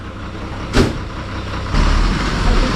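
A state transport bus rolls along a Konkan village road in light rain, a loud close engine rumble with a sharp hiss of air release partway through, then the heavier drive noise swelling as it passes; no voices.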